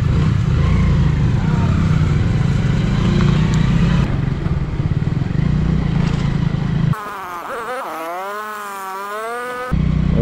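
A KTM motorcycle engine drones steadily while riding a snowy mountain road in Spiti Valley, with a rider's voice talking loudly over the engine for most of the ride.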